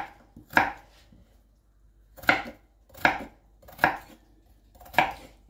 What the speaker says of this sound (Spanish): Uno la puede picar larguita o picarla en cubito igual